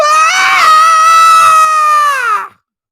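A voice imitates a yawn as a long, loud, sustained scream lasting about two and a half seconds, wavering slightly in pitch before cutting off into silence.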